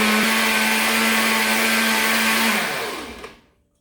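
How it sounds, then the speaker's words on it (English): An enchilada sauce blends in a kitchen blender with a loud, steady motor whir that holds for about two and a half seconds and then winds down to silence, with no speech. "we're just going to pulse it, I don't know, a few times till it's all blended"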